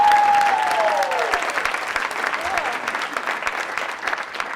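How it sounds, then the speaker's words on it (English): A crowd applauds and cheers, a dense, loud wash of clapping that fills the whole stretch, with a whistle-like rising tone at the start and no clear talking. "The crowd goes wild!"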